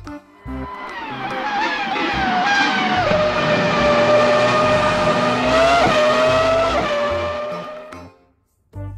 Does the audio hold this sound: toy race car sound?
yes